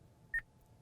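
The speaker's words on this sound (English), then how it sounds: "Press the talk button after the beep." A single short electronic beep from a 2014 Honda Accord's HondaLink voice-command system, a clean tone over a faint background hum with no speech.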